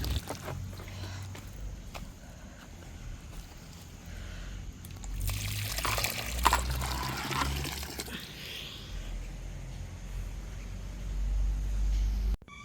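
Water tipped by hand onto garden soil while planting in the rain, a gentle pour and splash that swells in the middle, set over a low outdoor background without voices.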